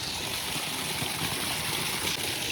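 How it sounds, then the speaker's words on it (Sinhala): Water pouring steadily from a pipe fed by a hand-dug line from the forest, a continuous close rushing flow with no pauses, with no voices heard. "මේ ඔන්න ඔය විදිහට තමයි වතුර එන්නේ ඉතින්."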